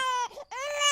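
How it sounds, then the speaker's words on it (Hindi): A newborn baby's first cries, a loud, close, shrill wail that breaks off briefly and then resumes strongly, like a horror-story sound effect. "बच्चे की पहली रोने की आवाज गूंजी।"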